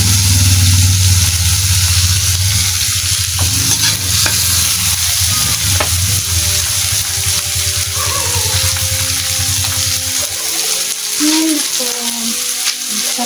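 Food frying in a pan with steady sizzling while a utensil stirs, scraping and clattering close by; the sizzle cuts out near the end, leaving quieter handling sounds.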